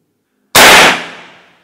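A Big Game PCP air rifle at 3000 psi fires one sharp, loud crack that cuts in abruptly out of silence and dies away over about a second.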